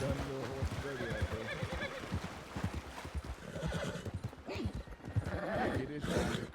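A horse whinnies in a video game with a wavering, drawn-out call, mixed with hoof clip-clops and a layered, slightly synthetic quality, fairly loud and close.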